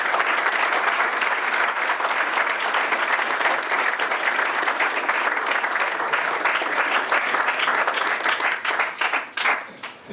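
An audience bursts into sustained applause during a rabbi's speech at a kollel grand opening, with dense, even clapping from many hands that holds steady and then thins out and fades near the end.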